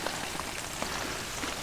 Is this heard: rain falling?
yes